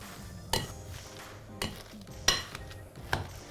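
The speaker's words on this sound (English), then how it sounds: "Gonna give it 1 last final mash" Thick high-protein burger mixture seasoned with tamari is mashed in a bowl, four separate dull squelching thuds of the masher spaced about a second apart, close and moderately loud with no talking.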